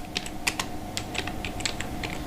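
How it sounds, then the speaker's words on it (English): Quiet, sharp ticks of a computer mouse's left button, pressed several times in rapid pairs and clusters, heard alone against a low steady electrical hum. "Then use the left mouse click 2 times,"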